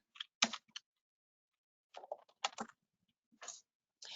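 An address being typed on a computer keyboard in a quiet room: short clusters of crisp key clicks separated by pauses, close and fairly soft, with no talking.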